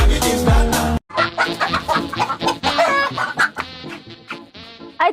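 Chickens cluck close by in a rapid, repeated run of short calls. Before that, a brief, dense burst of another sound cuts off abruptly.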